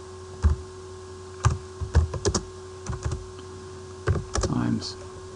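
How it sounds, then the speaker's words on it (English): Computer keyboard typing while entering a page template name in CAD software: short clusters of quick, fairly close keystroke clicks separated by pauses, with a steady low hum underneath. "I type in A3"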